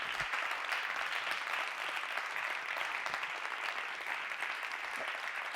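An audience at a chamber music award ceremony applauds steadily, a dense even clapping from a sizeable crowd that keeps going throughout.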